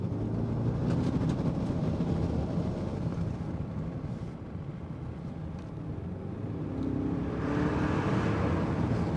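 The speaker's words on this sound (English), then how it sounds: "So let's now listen to the Range Rover here," A 2023 Range Rover Sport P530 with the Manhart SV650 tune, heard from inside the cabin as a deep, muffled engine drone rising and falling steadily, with rumbling road and wind noise.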